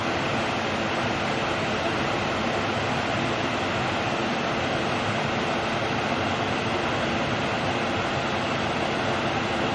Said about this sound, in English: I had to show you a beautiful waterfall.